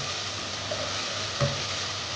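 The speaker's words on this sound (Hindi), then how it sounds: "जब ऑयल गर्म हो जाए तो इसमें 1 मीडियम प्याज चॉप किया हुआ वो डाल दें और प्याज को फ्राई कर लें" Chopped medium onion frying in hot oil for a chicken pota kaleji dish, a steady broad sizzle with a faint clink near the middle, no voices.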